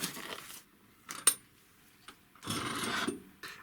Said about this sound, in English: remove the build plate from the printer and then remove the models from the build plate, which we are going to do right now